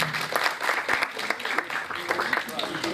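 Lively applause from an audience at a Sindh Cultural Day event at a press club, welcoming three ambassadors, steady irregular clapping that lasts the whole time and sits up close.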